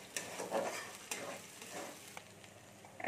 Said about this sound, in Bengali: এবার আদাটা বাটাটা দিয়ে দিচ্ছি আমি। আদাটা একটু ভেজে নেব।